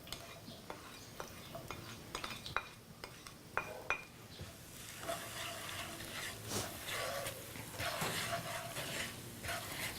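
Shrimp paste stir-frying with fried chili sambal in a pan: a spatula clinks and scrapes against the pan in irregular taps, then a steady sizzle and stirring rustle take over, close and moderately quiet.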